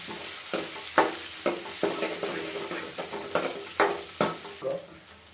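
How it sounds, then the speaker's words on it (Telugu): Vegetables stir-fried in a pan with oil, mustard seeds, cumin and turmeric, a steady sizzle broken by repeated scraping stirs of a utensil against the pan, close and fairly quiet, no voices. "బాగా ఫ్రై అవ్వాలి. ఫ్రై అయినిచ్చి మనం వెజిటేబుల్స్ యాడ్ చేసేసుకున్నాం"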